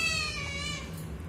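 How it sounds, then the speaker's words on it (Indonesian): A large, heavy male tabby cat meows insistently while begging for food, a long drawn-out cry close to the listener that fades out toward the end, with no other voices present. "Kucing paling cerewet."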